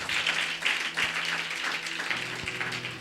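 A church congregation claps hands together at a worship service, a dense, steady patter of many hands in a rhythmic beat, with sustained organ-like music tones beneath.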